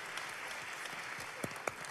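An audience applauds in a room after a talk about an animal shelter, a dense steady patter of many hands at moderate distance with a few sharper individual claps standing out toward the end.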